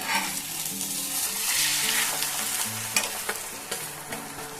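A lachha paratha for an egg roll fries in oil after being flipped, giving a continuous close sizzle with a few spatula scrapes and taps and no voices.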